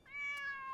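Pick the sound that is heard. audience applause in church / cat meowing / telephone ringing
cat meowing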